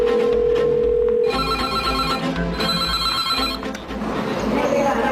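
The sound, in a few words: telephone ringing on a call to Childline helpline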